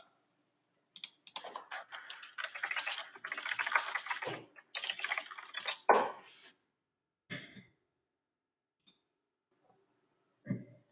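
Quiet computer-keyboard typing comes in fast, busy bursts of clicking keys, then thins out into a few isolated taps and a final short clatter with pauses between them.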